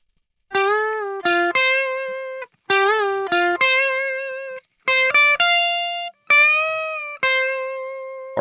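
Distorted electric guitar solo played through from start to finish: clean sustained notes and quick bends in four phrases separated by short pauses, loud and close, with no talking.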